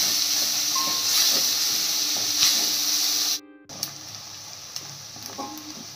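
Onion and okra frying in oil as a spoon stirs them in the pan, a bright hissing sizzle with scraping strokes, broken by a brief dropout midway before the frying resumes.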